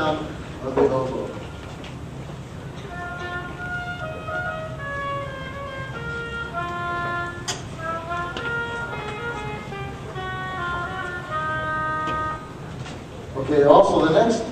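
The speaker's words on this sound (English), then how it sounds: "This is the sound of the oboe." An oboe plays a melodic line of sustained reed notes during an introduction to the school band's instruments, clear over light room noise with brief rustling at the start and end.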